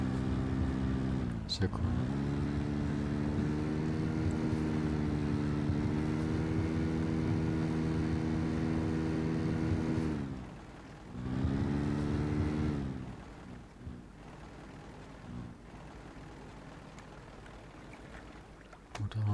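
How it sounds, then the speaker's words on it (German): A boat motor in the game Rust drones steadily at a loud, even pitch, cuts out briefly, restarts and then stops, and someone speaks over it. "Motor an."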